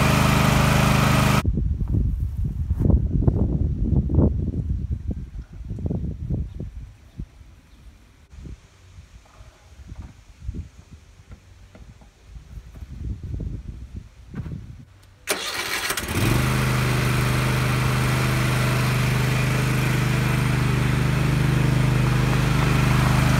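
A lawn mower engine mowing a backyard fenced with chicken wire: loud, rough mid-pitched running that dips and surges for about fifteen seconds, then gives way to a steady, even engine drone.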